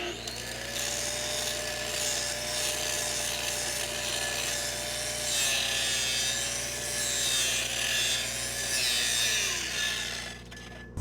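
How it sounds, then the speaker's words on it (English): A grinder works a weld on steel pipe in a continuous, loud, high whine that holds for about ten seconds and cuts off abruptly at the end. "I'm gonna go ahead and hit it with a grinder"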